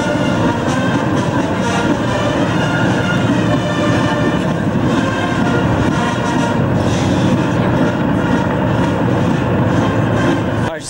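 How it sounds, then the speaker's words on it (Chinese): Army UH-1H combat transport helicopters, twenty-seven of them, pass over the reviewing stand at a national day military parade, a loud continuous rumbling drone filling the whole stretch. "27架陆军 UH-1H 的战斗运输用直升机现在已经通过了阅兵台的上空。"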